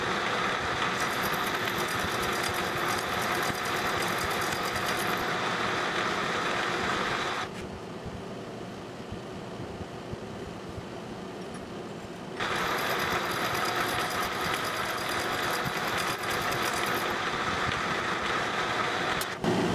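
A milling machine cutter works on a metal part clamped with an angle block and parallels, a dense whirring, chattering cut that stops briefly midway, leaving the quieter spindle hum, then resumes at full level.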